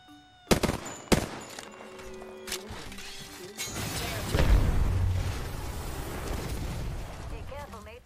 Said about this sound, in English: Arc star out.